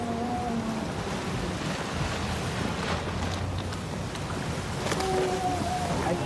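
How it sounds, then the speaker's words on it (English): Low groaning strain of a 52 Super Series racing sailboat rig under heavy load off Puerto Portals, mixed with steady wind and rushing water, with a few faint creaks rising and fading. "These sounds you hear, that is the pressure on the rig."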